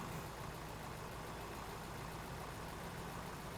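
A tractor engine in the Farming Simulator 15 video game, pulling an implement through a mud hole: a continuous, even, fairly faint engine drone with no talk over it.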